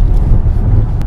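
A Police Interceptor cruises on a freeway at about 60 mph and 2,000 RPM with windows up and ventilation running, giving a dense, steady low road-and-wind rumble for about a second.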